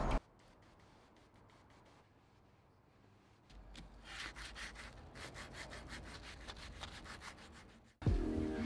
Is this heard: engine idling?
no